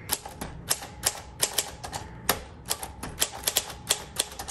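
Keys clack on a 1935 Smith Corona typewriter, a close, crisp run of irregular strikes with brief pauses and a couple of heavier thunks, with no talking.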